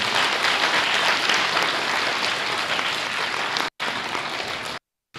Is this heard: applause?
yes